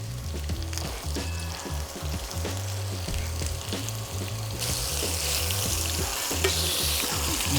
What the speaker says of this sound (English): just let it cook in the fat that's rendering off of it